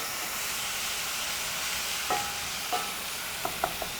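Ground turkey frying in a pan with a splash of Dr Pepper, a steady soft sizzle broken later by a few sharp spatters and utensil taps.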